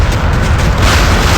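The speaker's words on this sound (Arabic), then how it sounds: "دوي" Deep, continuous rumbling boom from a bomber strike in the naval combat game Modern Warships, with a TU-160 bomber, filling the whole moment at steady, loud level with no talk.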